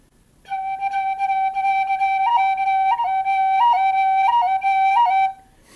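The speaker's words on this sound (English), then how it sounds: "You can hear right there the tonguing and the percussive effect." An Irish wooden flute plays a steady melody with crisp tonguing ornaments, giving clear, close, breathy notes with regular percussive articulations over about five seconds, with no voices.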